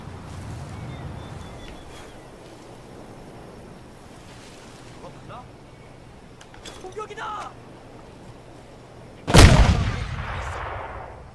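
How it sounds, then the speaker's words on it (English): A grenade explosion in the video game Crysis goes off as one loud, sudden blast, followed by a rumbling decay over faint ambient wind and surf. "That again was a pretty effective grenade."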